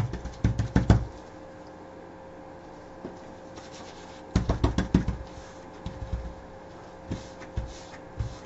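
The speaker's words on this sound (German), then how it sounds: "dann mache ich das meistens auch so ein bisschen was auf die Hand und dann klopfe ich das hier schön ein" A hand pats leather care product into a leather-bound book, making soft, dull tapping in quick clusters, with one burst at the start, another around the middle and scattered single pats between, close and alone.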